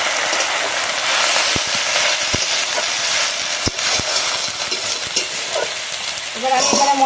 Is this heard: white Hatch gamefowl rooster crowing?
no